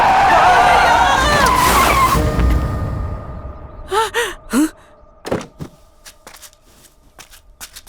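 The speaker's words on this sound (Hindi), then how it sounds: "अरे सामने से गाड़ी आ रही है, देख।" A car approaches and skids to a stop in a loud, drawn-out screech lasting about two seconds, followed by a few short thumps and crashing clatters.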